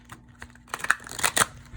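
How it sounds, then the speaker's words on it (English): Tarot cards being shuffled by hand, a short burst of quick riffling and flicking clicks, close and fairly quiet, building over a couple of seconds. "I'm going to just shuffle this a little bit."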